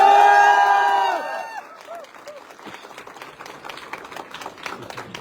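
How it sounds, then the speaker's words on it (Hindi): A crowd claps for a guest at a motivational gathering, following a fading musical chord; the applause is moderate and scattered, with some cheering and voices mixed in. "जोरदार तालियां अंकुर सर के लिए।"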